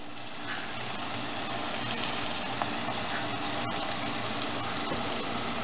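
Ground beef sizzles and crackles in a hot pan with garlic and onion, a steady, close, even hiss that holds the whole time with no voice over it.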